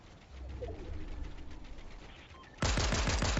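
In a battle royale video game, gunfire bursts in suddenly after a stretch of steady ambient noise, a loud rapid string of shots that carries on to the end.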